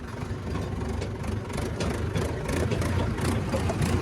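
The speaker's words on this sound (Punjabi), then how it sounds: "ਤਿੰਨੇ ਟਰੈਕਟਰ ਚੜਦੇ ਦੇਖਾਂ ਮਿੱਤਰ ਮੈਂ ਅੱਜ ਪਹਿਲੀ ਵਾਰੀ ਜ਼ੋਰ ਲਾ ਕੇ" A tractor engine labours up a slope, a steady low, heavy drone that holds at a constant loud level throughout with no voices.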